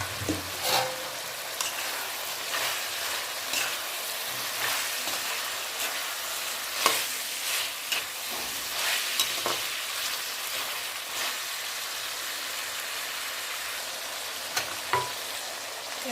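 Cut potatoes fry with mutton in an oily pan, giving a steady close sizzle with occasional scraping stirs and no talking.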